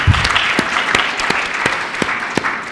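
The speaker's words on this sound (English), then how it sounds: "Round of applause, ladies and gentlemen" Audience applause at a youth-themed conference event, honouring a head of strategy just introduced on stage. A dense, steady wash of many hands clapping fills the room, with a few sharper individual claps standing out, loud and close throughout.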